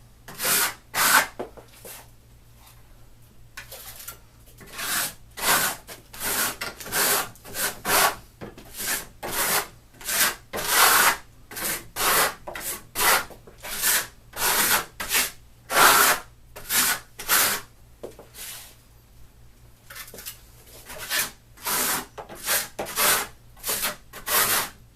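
A trowel scrapes rhythmically over Marmorino Venetian plaster on a wall, with steady repeated rasping strokes, close and fairly loud, continuing alone throughout.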